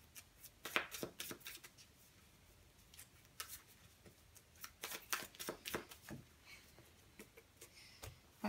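A deck of cards is shuffled during a Vanguard card game, a quiet series of irregular riffling bursts and soft taps spread across several seconds.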